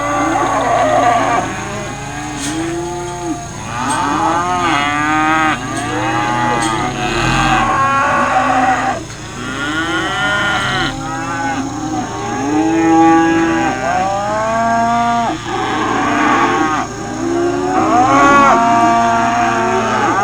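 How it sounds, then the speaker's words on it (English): Many cattle moo and bawl loudly and continuously in a feedlot pen of freshly arrived cattle at the feed bunk, overlapping calls near and far with a steady low background hum. "Those are all fresh cattle, came in last night about 1 o'clock in the morning, already hitting the bunk."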